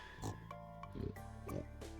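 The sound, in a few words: pig oinking in Stardew Valley video game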